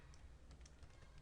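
Quiet typing on a computer keyboard while entering an SQL query, a few soft rapid key clicks close by.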